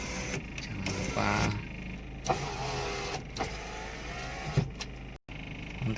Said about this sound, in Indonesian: Jangan lupa cek power window-nya juga semua